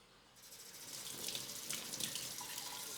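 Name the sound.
water rinsing a cymbal at the tap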